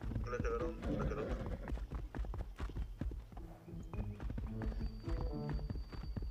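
Galloping horse hooves in the Rust Mobile video game, a rapid clip-clop rhythm running through the whole stretch, mixed with game sounds and someone talking over it.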